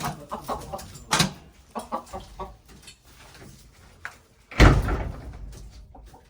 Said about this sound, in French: Voilà, je referme la porte.